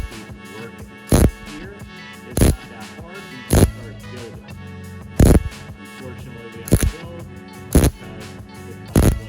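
MIG welding on a body panel of a 1963 Chevy C10 pickup, heard as short loud bursts of crackling arc, about seven evenly spaced welds with quieter shop noise between them.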